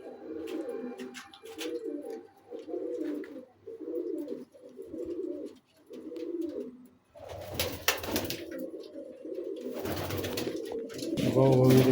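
Male pigeons cooing in a loft, a run of regular, rounded coos close by, followed by louder mixed noise with people talking over further cooing.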